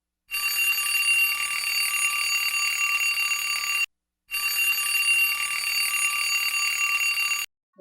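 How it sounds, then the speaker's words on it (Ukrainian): An electronic alarm clock rings in two long bursts of steady, shrill tone, separated by a brief pause, loud and close. "будильник."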